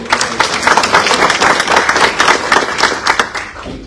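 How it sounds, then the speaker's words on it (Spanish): An audience at a climate change lecture in Peru claps loudly for an arriving colonel and his delegation, a strong dense round of hands that fades out near the end. "Un fuerte aplauso"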